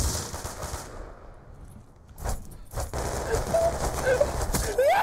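Gunfire in a first-person shooter video game, several sharp bursts of shots amid game sounds, with a player's voice reacting between them.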